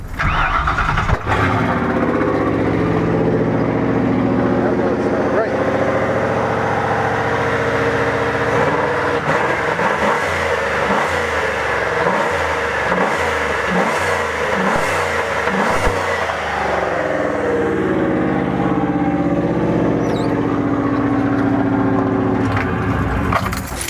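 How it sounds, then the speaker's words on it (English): A Chrysler Imperial engine, needing new plugs, cranks, catches and revs up roughly, the rumble rising and falling in uneven bursts before settling, close and loud throughout. "let's go crank that car up again."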